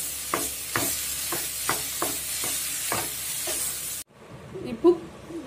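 Grated coconut fried in ghee and oil for suzhiyam, stirred with steady repeated spoon scrapes over a soft sizzle, close by, stopping abruptly near the end into quieter background.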